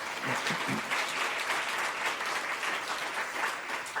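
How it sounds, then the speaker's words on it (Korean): A church congregation claps steadily in welcome, a dense and even wash of applause from a large indoor crowd lasting the whole stretch. "우리 박수로 뜨겁게 한번 환영하겠습니다."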